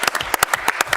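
Brief hand-clapping applause at a board meeting recognizing an employee's thirty years of service, with a handful of sharp, close, distinct claps in quick succession.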